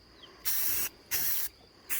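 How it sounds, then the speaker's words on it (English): An aerosol can sprays black paint onto a tumbler cup in three short hissing bursts, each about half a second, close and clear with quiet gaps between. "I'm spray painting it black"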